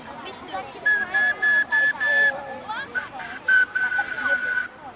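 A bamboo whistle is blown in a series of short, shrill tonal bursts, several quick toots and then longer held notes, over a schoolroom with children's voices in the background.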